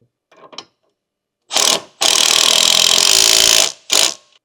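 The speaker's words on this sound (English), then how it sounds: "Using a large 16 mm deep socket, together with a large impact wrench," A large impact wrench with a 16 mm deep socket tightens the upper end link nut while installing a suspension kit on a Nissan Versa: a short burst, then a long loud hammering run and a final brief burst, after a few light clicks.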